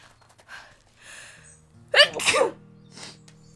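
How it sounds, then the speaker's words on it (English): A single sharp human sneeze, loud and close, with a quick intake of breath just before it and faint background noise around it. "Oh no, I sniffed and now I gotta sneeze."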